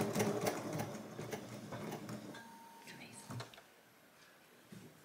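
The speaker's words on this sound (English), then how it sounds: "Start sewing." A sewing machine runs close by in a quick mechanical rattle as it stitches a quilt. The stitching is busiest at the start and thins into lighter clicks and pauses, with a faint voice in the background.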